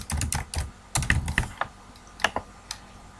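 Quiet, irregular tapping of computer keys, a few quick clusters of keystrokes followed by scattered single presses, while entering text in an Excel spreadsheet.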